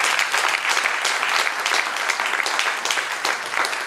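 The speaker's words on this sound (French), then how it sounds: "On acclame pour le professeur" An audience at an anniversary gathering claps for a professor, a dense, steady wash of applause that stays loud and full from start to finish with no talk over it.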